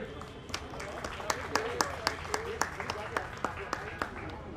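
Audience applause at an evening cultural event, scattered claps rising and falling across the clip with a steady crowd murmur beneath, moderately near.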